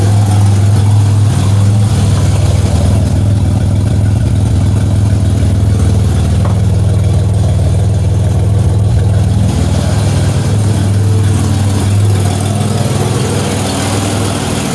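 Car engine with a ZZP XPZ camshaft idling right after its first start-up, a steady loud low rumble holding evenly throughout with no talk.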